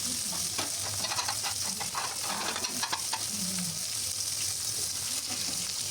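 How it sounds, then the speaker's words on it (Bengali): Fish sizzles and crackles steadily in a hot frying pan for a Bangladeshi fish and bottle gourd curry, a continuous close frying hiss with occasional stirring clinks and no talk. "মাছগুলো ভাজা হয়ে গেছে, এখন আমি এগুলো তুলে নিব।"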